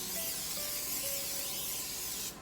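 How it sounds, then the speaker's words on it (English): Olive oil cooking spray from a Pam can hisses onto a baking dish in one steady, close, loud burst that lasts a couple of seconds before cutting off. "we're gonna spray our baking dish with that Pam spray"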